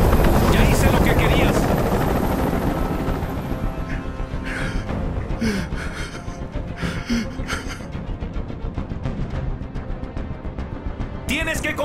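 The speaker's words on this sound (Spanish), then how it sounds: "¡Ya no resisto más ese ruido! ¡Haz que ese helicóptero se vaya!" A helicopter in the video game Detroit thunders loudly overhead with a dense, throbbing rotor roar that continues throughout, while voices speak over it.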